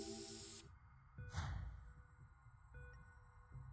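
A luminol spray bottle in the video game Zero Time Dilemma releases one short, breathy hissing spray burst amid quiet game ambience, following an earlier bright tone that cuts off.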